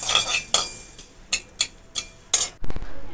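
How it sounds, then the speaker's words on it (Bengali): Sharp metal clinks and scrapes of a utensil stirring spice paste frying in a pan for a soybean dish, a handful of uneven strikes close up with quiet gaps between them. "মশলাটা বন্ধুরা আমরা বারে বারে নাড়তে থাকবো যাতে মশলাটা পোড়া না লাগে।"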